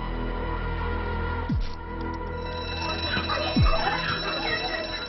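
A fire alarm rings loudly and continuously inside a nightlife venue, a sustained electronic tone with two sharp swooping effects layered over it.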